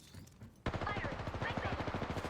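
Sudden sustained burst of automatic gunfire in Apex Legends, rapid evenly spaced shots starting sharply after a quiet moment and continuing loud and close.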